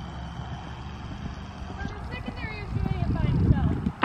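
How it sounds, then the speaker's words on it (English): Horse hooves thud in a fast canter on an arena surface, with rhythmic muffled beats under a rider's talk and faint bird calls, growing louder toward the end. "I think I have a really nice fast canter here."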